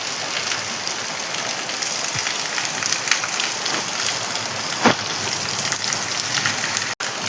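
Steady, dense hiss of heavy rain pouring down, with a few louder drops and splashes standing out near the end.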